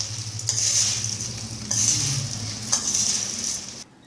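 A spoon stirs a homemade crispy Indian snack mixture, scraping and rustling in the pot in several bursts with a low background hum, no voices present.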